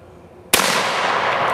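A single loud, sharp gunshot from a firearm goes off outdoors after a quiet moment and leaves a long noisy tail, with no talking during the shot.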